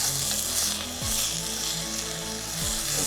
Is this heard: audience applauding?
no